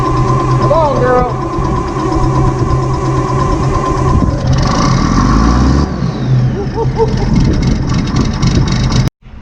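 An old John Deere 4430 tractor engine on a cold morning churns and rumbles loudly up close, building into a steady revving roar with mechanical clatter, while someone talks over it.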